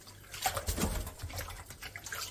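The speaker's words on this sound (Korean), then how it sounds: "찬물에 샤워를 시켜줍니다" Cold tap water running over blanched monkfish as it is rinsed, a close, splashing trickle with a few drips and no talk.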